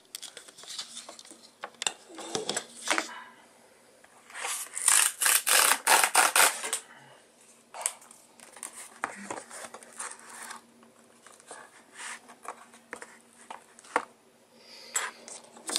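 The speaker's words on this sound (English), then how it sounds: "So, that opened actually just like a zipper, like seriously, which is really impressive." A Pebble smartwatch box is torn open by its pull tab, a run of close, crisp ripping and rasping like a zipper, with scattered rustles and taps of cardboard before and after.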